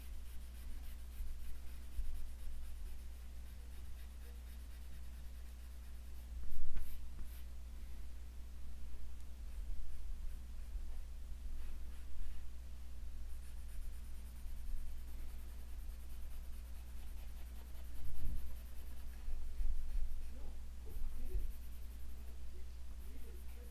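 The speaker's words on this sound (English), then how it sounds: "I'm going to run my smudger through that first, try to darken up blender a little bit." A charcoal blending stump rubbing across scrap paper makes soft continuous scratchy strokes, faint against a steady low hum.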